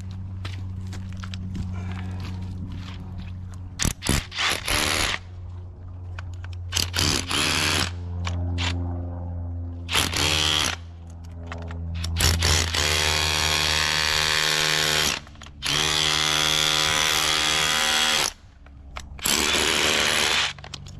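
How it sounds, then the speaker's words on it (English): A loud, heavy hammer drill runs in repeated long bursts with short pauses between, harsh and close, over a steady low hum, while freeing an ammonite fossil. "I'm gonna have to get the hammer drill."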